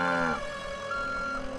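A cow in the LEGO Jurassic World video game gives one drawn-out moo that fades into a steady backdrop of sustained game tones.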